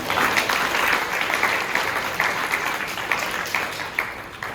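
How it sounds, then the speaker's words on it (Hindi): An audience gives hearty applause at a Gangotsav Sansthan program addressed by Jain Acharya Lokesh. Dense, steady clapping continues loudly for the whole stretch and tapers off slightly near the end. "एक बार फिर से इनके जोरदार तालियां।"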